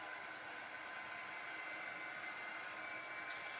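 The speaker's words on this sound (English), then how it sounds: "So I am going to hold that back for a second and get my dryer." Hair dryer blowing on a craft transfer, a steady close whoosh holding constant throughout with no talking.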